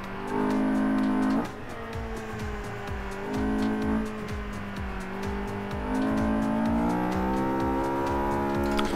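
A Mercedes 190E race car lapping a circuit, its engine note loud and close as it climbs and drops through gearshifts, sliding slightly through a left-hand bend, with a steady rumbling drone throughout.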